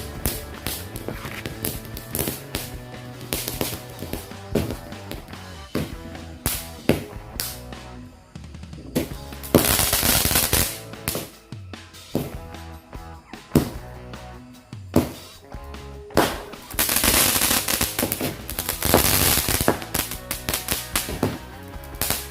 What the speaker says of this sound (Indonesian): kita nyalain mercon Magic Snake atau mercon Cobra